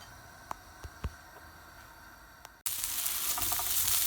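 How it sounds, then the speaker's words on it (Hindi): Chicken with beans and bell pepper hitting a hot pan, a few soft clicks before a sudden, loud, steady sizzle sets in and keeps going. "तो ये हमने यहाँ पर जो चिकन निकाला था इसी में मैं इसको शामिल कर देती हूँ और थोड़ा सा पका लेती हूँ।"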